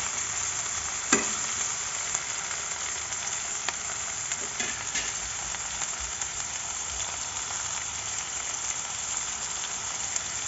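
Broccoli fries in a pan, giving a steady, dense sizzle from start to finish with occasional faint clicks of stirring and no talking.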